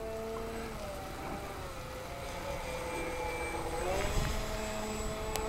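A radio-controlled F-8 Crusader model jet on its first flight passes overhead, its faint, steady whining engine tone drifting in pitch as it flies by at a distance, with no talk.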